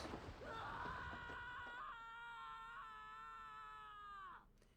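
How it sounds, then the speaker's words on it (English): A character in the Digimon Survive video game gives a long, wavering scream that holds for several seconds, loud and clear against quiet game audio, then cuts off abruptly. "Good voice acting was good. We love a good scream."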